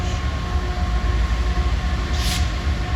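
A Finger Lakes Railway freight train rolls past close by, producing a loud, steady rumble and rail noise that fills the whole stretch, with a brief higher hiss partway through and no voices.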